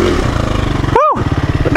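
A KTM dirt bike engine drones and revs steadily up close during a rocky hill climb, its pulsing note running under the rider's voice throughout.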